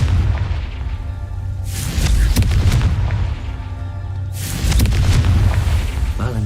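Two heavy booming blasts from the Confringo fire spell in Hogwarts Legacy, each a deep loud burst with a rumbling tail, spaced a few seconds apart.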